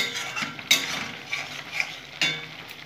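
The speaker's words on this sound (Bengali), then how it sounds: "এখন আমি এক এক করে আলু ডিম ফুলকপিগুলো কষে নেব।" Potatoes, eggs and cauliflower sautéed in a pan: a soft ongoing sizzle with a couple of sharp spatula scrapes and clinks against the metal, close up and brief, and no one speaking.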